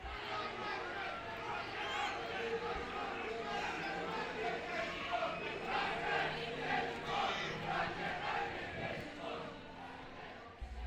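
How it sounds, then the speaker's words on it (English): A football home crowd on the terraces at New Douglas Park chants against manager Rankin, a steady, distant roar of massed voices sustained throughout. "Cries of Rankin out rang from the terraces early"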